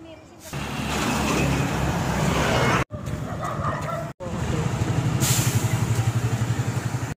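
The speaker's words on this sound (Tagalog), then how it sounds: "truck na kumukuha ng lupa" A truck hauling soil rumbles past on a road, a loud steady engine drone broken by two brief cuts, later joined by a rhythmic throbbing pulse and a hiss, with faint background chatter.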